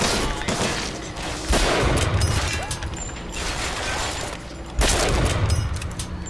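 Carbine gunfire in BioShock Infinite in a shantytown fight, sharp repeated shots with mechanical clatter and a few heavier impacts spaced across the scene.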